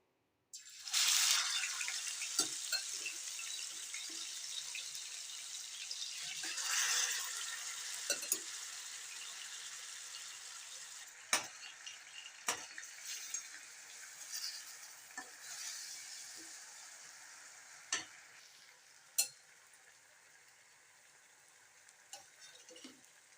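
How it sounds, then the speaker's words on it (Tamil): Marinated chicken frying in groundnut oil in a pan for butter chicken, a steady broadband sizzle starting abruptly and running throughout, with occasional sharp pops and crackles, close and fairly loud, no talking. "அடுப்பில் ஒரு பேன் வச்சு ஆயில் ஊற்றிருக்கேன் இதை நல்லா பொறிச்சு வேக வச்சு எடுத்துடலாம்"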